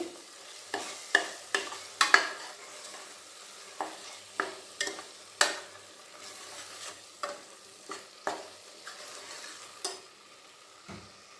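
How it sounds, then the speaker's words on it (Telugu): Chicken biryani ingredients frying in a pan on a low flame, with a faint steady sizzle under a dozen or so sharp, evenly spaced clinks and scrapes of a spoon against the pan. "ఐదు 6 నిమిషాలు ఇలా లో ఫ్లేమ్లో బ్రౌన్ కలర్ వచ్చే వరకు వేయించుకోవాలండి."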